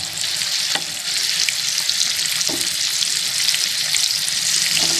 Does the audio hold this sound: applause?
no